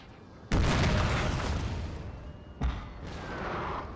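Artillery barrage in Napoleon Total War: a heavy booming blast erupts and rolls on for seconds, then a second sharp boom follows, loud and close with sustained rumble between.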